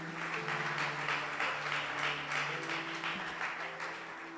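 A church congregation applauds in praise during a youth department launch service, with steady sustained clapping from a large crowd that carries on through the whole stretch, sitting over a low musical hum.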